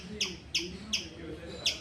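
A squirrel up in a tree gives four sharp, high chirping calls at a steady, evenly spaced rhythm, clear and moderately close over a quiet background.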